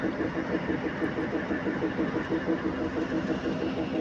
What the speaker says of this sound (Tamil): மங்களூர் வண்டி வந்துருச்சுங்க கரெக்டாக ஆறு பதினஞ்சுக்கெல்லாம் வந்துருச்சுங்க